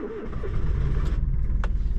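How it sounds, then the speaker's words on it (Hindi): A Maruti Suzuki Aster car engine turns over and catches in -14 °C cold at high altitude near Key Monastery in Kaza, a close, loud cranking that settles into a steady idle with no voices. "गाड़ी को करते हैं हम अपनी स्टार्ट,"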